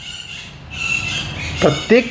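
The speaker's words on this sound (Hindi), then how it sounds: "आपको बैकग्राउंड से चिड़िया की आवाज़ आ रही होगी" A few brief, sharp bird chirps sound faintly in the background near the end, under a voice that keeps talking over light room noise.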